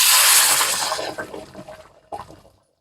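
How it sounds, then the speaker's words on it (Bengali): Water is poured into a pan of potato curry, a loud splashing gush close by that tapers off, followed by a brief final splash. "এবার এর মধ্যে জল দিয়ে দেবো"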